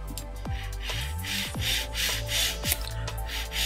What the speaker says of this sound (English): we are ready to do the filing routine